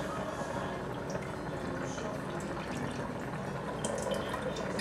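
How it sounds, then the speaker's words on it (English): Two cups of macaroni and boiling water are poured into a pot, giving a steady splashing, sloshing wash with fine dripping and bubbling, moderately close throughout. "I'm gonna go ahead and put in 2 cups of macaroni and boiling water"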